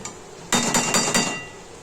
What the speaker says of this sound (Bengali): ডিমটা একটু গরম ফুটো ফুটো করে গিতে দিচ্ছি